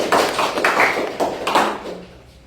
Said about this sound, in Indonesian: Coba beri tepuk tangan untuk Rapli.